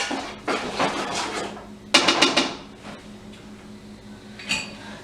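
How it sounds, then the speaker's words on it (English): Sausage and vegetables sautéing in a soup pot while being stirred, with a series of clattering metal scrapes and knocks against the pot in short bursts over a faint sizzle, with no speech. "So I'm going to stir that up."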